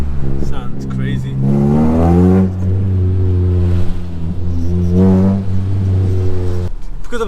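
A straight-piped Honda Civic EP3 Type R with a 4-2-1 manifold revs loudly and close, its engine pitch climbing and falling through several sweeping rises before cutting off, with a voice talking over it.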